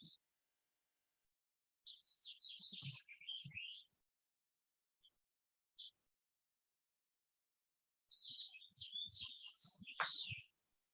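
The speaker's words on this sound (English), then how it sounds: "there's a bunch of birds outside my door" Birds chirping just outside a door, two close bursts of rapid high chirps and tweets separated by near silence and a couple of single short calls, with faint speech mixed in.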